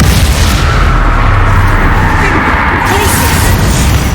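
A Confringo fire spell explodes in the Hogwarts Legacy video game, a loud, dense booming blast that fills the scene with continuous roaring noise and low rumble, with no speech.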